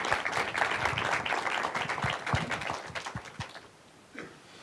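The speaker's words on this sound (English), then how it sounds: "Can we give a round of applause for" An audience claps for Chef Rick Bayless at the close of a session with students, a lively burst of applause with distinct individual claps that thins out and fades, followed by a faint voice.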